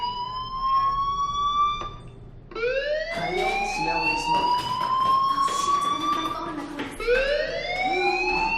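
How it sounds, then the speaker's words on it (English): A fire alarm in the video game Life is Strange gives repeated rising electronic wails, loud and close, with a short pause after the first one, then continuous whooping cycles over a faint background. "do you hear that fire alarm?"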